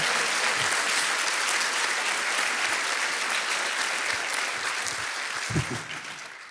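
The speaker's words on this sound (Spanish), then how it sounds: "Dale más fuerte ese aplauso al Señor." A church congregation applauds steadily during a sermon, a dense, sustained wash of many hands clapping at moderate level throughout, easing slightly toward the end with a few thumps.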